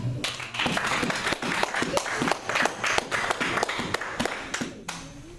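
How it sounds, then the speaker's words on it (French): Church congregation clapping in praise during a worship service, a dense run of rhythmic hand claps carrying steadily through the clip before stopping near the end. "Acclamons pour Jésus."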